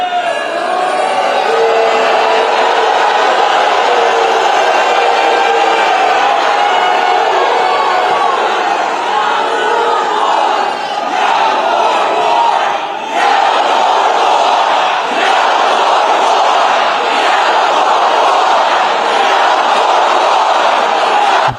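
Large crowd shouting and cheering at a political speech, a loud, dense wall of many voices that stays steady throughout with brief surges of yells.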